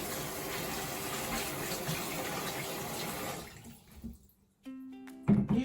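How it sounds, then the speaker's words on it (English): Water runs from a tap into a bowl of honey beans to rinse them, a steady gushing splash that cuts off partway through, followed by brief clinks and handling sounds. "I'll put more water to rinse it."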